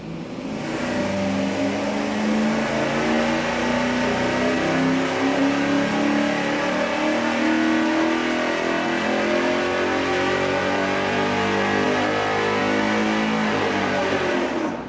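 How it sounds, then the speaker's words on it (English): A high-performance engine on a dyno revs hard through a single exhaust with a Y merge and straight-through muffler, a loud, sustained mid-pitched roar with rising and falling harmonics lasting about fifteen seconds, with no talk over it. "We're gonna do that single exhaust with the Y merge with the straight through muffler."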